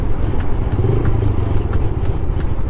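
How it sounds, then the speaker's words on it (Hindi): A motorcycle with a loose chain rattles as it rides through the Neelum valley, giving a steady engine drone with irregular clattering ticks over it and no talk. "बाइक का चेन ढीला हुआ है जो कर रहा है आवाज़, और वो बहुत डिस्टर्बिंग है"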